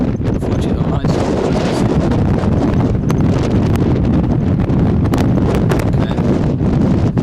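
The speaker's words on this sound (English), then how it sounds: "Hell of a wind blowing up here too" Strong wind buffets the microphone at a high lookout near Griquatown, South Africa, a loud continuous roar with gusty rumbling and rustle, close and unbroken, with a brief spoken word.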